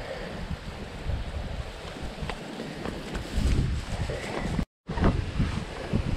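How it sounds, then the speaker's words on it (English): Wind gusts buffet the microphone beside Nine Mile Creek in Nebraska on an October morning, a steady broadband roar that swells and drops, with one brief cutout near the end. "That wind is rifling right down here"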